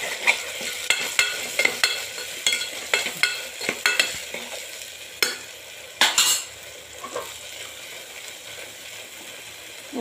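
Spices roast in hot tempering oil, a steady crackling sizzle punctuated by repeated spoon scrapes and taps against the pan, close and fairly loud.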